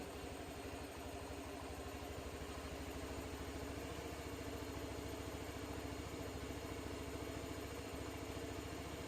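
A Honda Beat scooter engine idles steadily with a low, even, rapid putter, with no break for about nine seconds. The bike has a fault: it sputters and won't ride.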